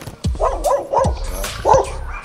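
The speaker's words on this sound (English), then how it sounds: "the dogs that are this side are a lot more vocal" Dogs in nearby yards bark in a quick series of close, sharp woofs, three in a row then another after a short gap, with faint whimpering between.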